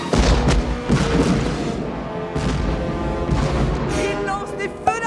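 Fireworks launched in an animated Christmas film: a dense run of loud booms, crashes and bangs following one another for several seconds, close and forceful, with no talking.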